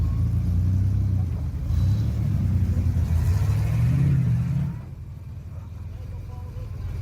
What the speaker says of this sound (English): This is David Adams in his green Jeep.